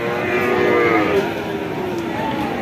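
Cattle moo loudly and close by at a bull calf market, one drawn-out low call alongside a fainter overlapping bellow amid background bustle.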